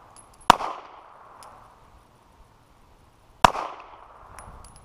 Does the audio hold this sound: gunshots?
yes